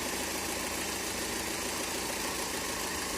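A Fiat Marea Liberty car engine idling with a suspected faulty oxygen sensor, a constant even drone and vibration heard up close with no other sounds.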